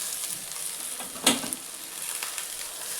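Chopped safflower greens are tossed into a hot pan and sauté with a soft, even sizzle, marked by one sharp clatter early on; no voices over it.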